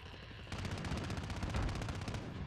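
Rapid automatic gunfire in Call of Duty crackles in a fast, even burst of shots lasting about two seconds, fairly quiet after a short lead-in.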